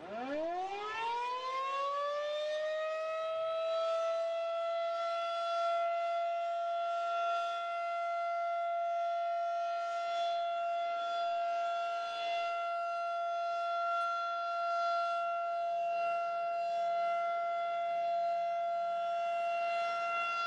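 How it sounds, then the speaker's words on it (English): An Allen County, Ohio civil defense warning siren holds one steady, loud wailing tone that rises at the start and then sustains unbroken for about twenty seconds, with no voices. "the county's warning sirens are a steady tone"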